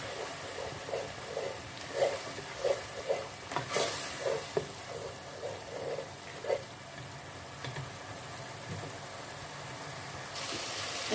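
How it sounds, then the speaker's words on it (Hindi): Crushed garlic and ginger fry in a pan for Lahori chana, a soft continuous sizzle broken by a run of evenly spaced stirring scrapes, then settling into a steady hiss. "अब इसमें हम ये लहसुन अदरक कूटा वो डाल देंगे और इसको भी हम फ्राई कर लेंगे।"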